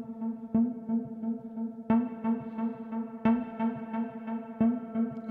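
An Elektron Analog Rytm drum machine through a low-pass filter plays a plucky synth-like drum pattern with a muffled, filtered tone, repeating steady hits with a chorus-like shimmer and light distortion, no voices.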